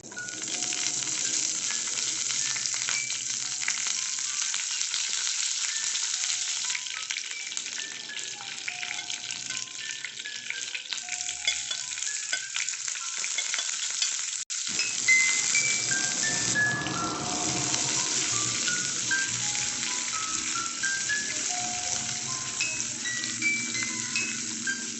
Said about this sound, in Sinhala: අබ ටික හොඳටම රත් වුණාට පස්සේ මම මේකට ලූණු ටික එකතු කර ගන්නවා.